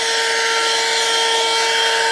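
A Tsumbay handheld car vacuum cleaner runs steadily at close range, its loud, even motor whine and rushing airflow continuous as it sucks up dirt, with no talking.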